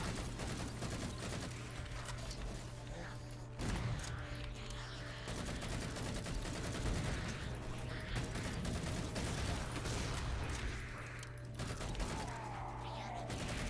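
Gunfire in Halo 4 co-op play, a steady stream of rapid shots and bursts layered over game music and effects, with a few sharper hits standing out throughout.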